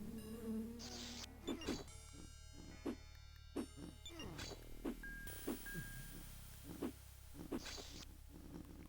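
Bees buzz in the DOS video game Lands of Lore: The Throne of Chaos, a wavering electronic drone punctuated by a series of short, sharp blips over a low background hum.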